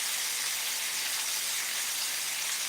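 Steak sizzling in a Wagner cast iron skillet with garlic cloves: a steady, bright hiss of frying that continues evenly without pause.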